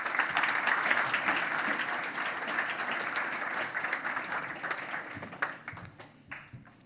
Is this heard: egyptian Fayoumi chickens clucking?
no